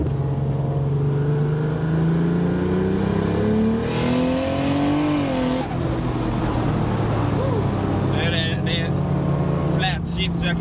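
A Toyota Supra with a sequential shifter drives under load, its engine droning and rising in pitch through the gears with a brief dip at a shift, loud and close, while people talk over it.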